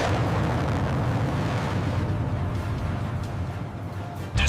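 A fighter jet missile launch and explosion from an F-35 sequence, a dense, loud, sustained roaring blast with heavy low rumble filling the whole stretch, ending in a sharp burst.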